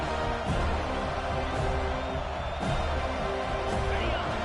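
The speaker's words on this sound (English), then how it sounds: "This crowd busting the decibel meter and trying to will a fourth down stop." A football stadium crowd at a Clemson versus Florida State game roars steadily and loudly for a fourth-down stop, a continuous wall of noise with cheers and whoops rising above it.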